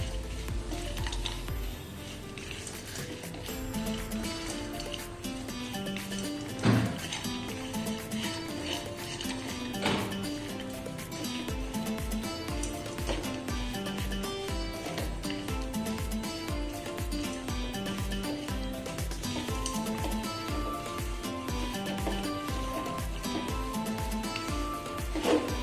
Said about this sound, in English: this we'll be adding now to the mawa, and we'll fry this along with the mawa for 2 to 3 minutes